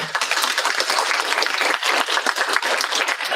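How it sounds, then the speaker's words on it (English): An audience at a student publishing celebration gives a round of applause, dense close clapping that holds steady throughout. "So round of applause for those"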